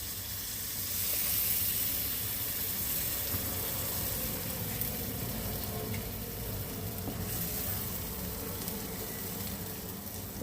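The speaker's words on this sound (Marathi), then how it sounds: "पाच मिनिटं फ्राय होण्यासाठी झाकून ठेवू आपण." Prawn masala fries in a covered pan, a soft steady sizzle and hiss that stays low and even throughout with no talking.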